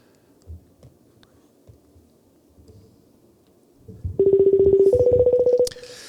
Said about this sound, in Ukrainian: Меседж і намагаємося зателефонувати.